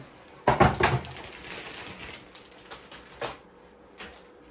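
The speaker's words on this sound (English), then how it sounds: "as the keyboard proceeds to slide out of the plastic bag that it came in" A new full-size computer keyboard with a number pad slides out of its plastic bag, making a burst of close crinkling and rustling followed by a few fainter scrapes and taps.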